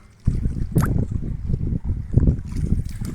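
Boats moving across flood water near Feni: a steady, close wash of water and hull noise with low rumbling surges and a few brief splashes, continuing throughout.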